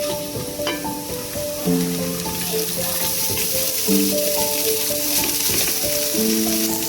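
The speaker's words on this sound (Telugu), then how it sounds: "ఇప్పుడు ముందుగా ఉడికించి పెట్టుకున్న రైస్ని ఇందులో వేసుకుందాం" Cooked rice goes into a hot pan for jeera rice, giving a loud, continuous close-up sizzle with a low humming tone running beneath and occasional scraping from stirring.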